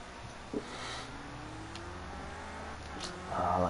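Race car engine from Project Cars 2 in a Clio Cup race at Monza, a steady revving drone with rising pitch sweeps as it accelerates, swelling louder near the end.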